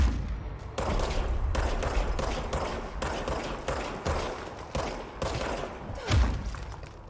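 Rapid bursts of gunfire from the service weapon in the video game Control, loud and close, firing in quick volleys with short gaps and a heavier thump near the end.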